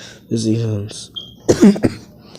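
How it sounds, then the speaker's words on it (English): A voice briefly, followed by a couple of rough, close coughs or throat-clearing bursts, then quiet. "just coughing a little bit"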